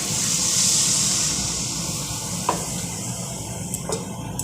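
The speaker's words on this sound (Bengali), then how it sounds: "এবার দিয়ে দেবো জল।" Water is poured into a hot pan of egg and potato curry made with cashews and yogurt, giving a loud, steady steaming hiss that slowly fades, with a couple of brief clinks near the end.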